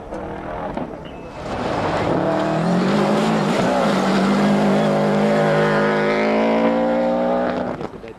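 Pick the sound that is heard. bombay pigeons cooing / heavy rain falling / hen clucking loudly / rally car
rally car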